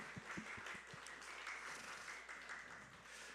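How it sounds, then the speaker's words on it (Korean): Congregation at a Korean church high school department Parents' Day worship service applauding together, a steady mass of clapping with a few distinct nearby claps at the start, moderately faint and without talk. "박수했으면 좋겠습니다."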